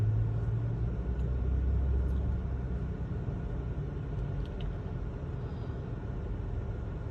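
Busy truck stop traffic rumbles steadily, with a deep idling engine drone and passing vehicles blending into a continuous low roar, plus faint higher hiss and occasional brief clicks.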